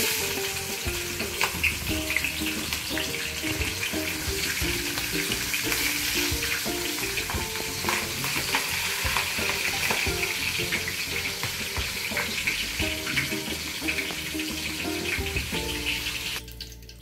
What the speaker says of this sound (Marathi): आता तेलामध्ये आपण मिरच्या घालूया। मिरच्या पण तळून घेऊ।